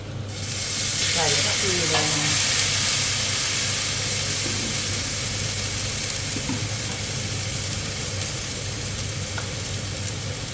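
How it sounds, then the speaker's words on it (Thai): Water splashing into a hot pan of stir-fried straw mushrooms and squid for spicy basil stir-fry, a loud steady sizzle and hiss lasting throughout, close by, with faint stirring clinks. "แล้วเราก็เอาน้ำใส่ไปนะคะ"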